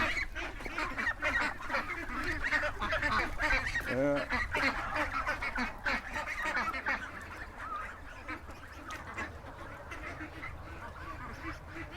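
A goose with angel wing honks repeatedly among other waterfowl, harsh nasal calls close by with quacking mixed in and faint voices.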